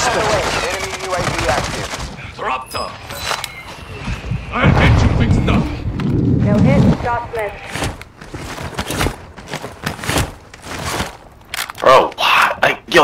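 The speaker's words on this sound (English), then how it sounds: "Mortar strike inbound." Mortar strike explosions in a first-person video game, heavy booming blasts and gunfire bursts in a dense cluster with crunching impacts, loud and close, mixed with players talking over the top.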